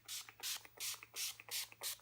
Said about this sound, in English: Squirt of my setting spray. This is the Scandinavia setting spray.